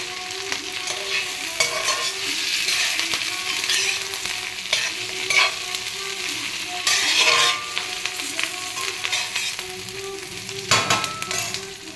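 Raw mango pieces fry in a pan, a steady close sizzle broken by repeated scraping strokes of a spoon stirring them around.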